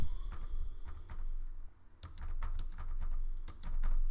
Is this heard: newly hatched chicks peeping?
no